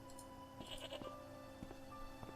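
A goat in the video game Broken Sword: Shadow of the Templars bleats several times in short wavering calls over a low ambient game background, faint and steady.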